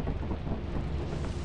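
Steady rain with a deep thunder rumble inside the video game Lethal Company, a dense continuous low roar holding loud and even with no voices over it.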